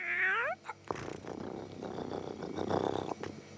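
Cartoon cat gives a short meow, then purrs and grumbles steadily close up, with rustling movement around it and no talk.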